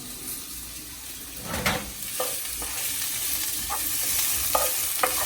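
Onions and green peppers being stirred in a sizzling pan for Italian sausage sandwiches, a steady close frying hiss broken by several scraping stirs of the utensil, with no talk.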